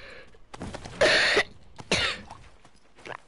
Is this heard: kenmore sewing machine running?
no